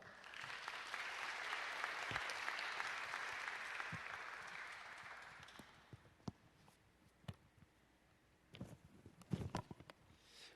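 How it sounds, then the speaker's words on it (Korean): Congregation at a regional youth church rally applauding steadily for about five seconds, the clapping then fading into scattered taps, footsteps and light shuffling in a quiet hall. "우리 하나님께 영광의 박수를, 또 목사님께는 환영의 박수를 함께 올려드리도록 하겠습니다"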